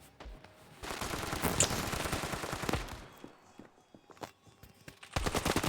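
Rapid automatic gunfire in a shooting video game, with dense bursts of shots at close range, a pause with scattered single shots, then another loud burst at the end.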